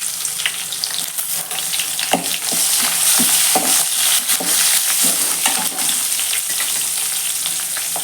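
Fennel seeds, garlic, green chili and garam masala fry in a pan for samba rava kichadi, giving a bright, continuous sizzle with soft scraping stirs throughout.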